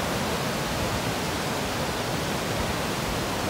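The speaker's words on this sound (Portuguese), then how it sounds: "Olha que cachoeira linda, gente." A waterfall where rivers meet near Rio de Janeiro pours in a dense, steady broadband rush, loud and unbroken throughout, with no voices.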